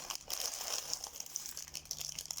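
Crinkly plastic Lego Technic parts bag being torn open with effort, a steady close-up rustle and crinkle of thin film running throughout with small sharp crackles, no talking.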